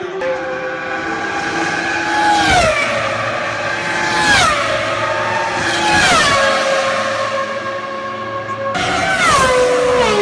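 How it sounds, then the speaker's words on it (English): Formula 1 race cars at a Ferrari Mondiali event roar past one after another, each high-revving engine whine dropping sharply in pitch as it passes; four loud, close pass-bys over a constant engine din. "these Formula 1 cars are seriously quick and seriously loud"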